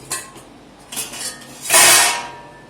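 A sprouted millet salad with salt and fresh green coriander gets mixed in a bowl: light clinks and scrapes of a utensil against the dish, then a louder, sustained rustling stir near the end, with no talking.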